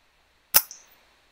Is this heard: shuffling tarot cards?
no